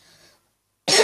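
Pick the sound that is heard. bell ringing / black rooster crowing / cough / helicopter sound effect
cough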